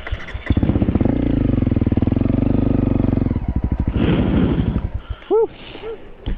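A motorcycle rides a bumpy sandy forest trail in Ocala National Forest, its engine loud and close, revving and surging with clattering and wind buffeting, then dropping to idle near the end with brief voices.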